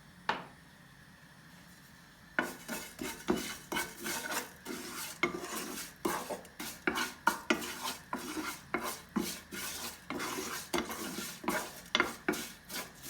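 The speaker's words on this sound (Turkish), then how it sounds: "Biraz daha rengi dönene kadar kavuracağız." Vermicelli toasting in lightly heated oil in a pot, stirred with a utensil: after two quiet seconds, a steady run of close, rhythmic scraping and clinking strokes continues over a soft sizzle, with no voices.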